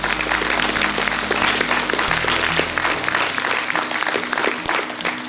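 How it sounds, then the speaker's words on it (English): An audience at a primary school prose reading competition gives a round of applause for a former student judge, with continuous, full crowd clapping close by and a faint low hum underneath. "So can we please give a round of applause for Aidan?"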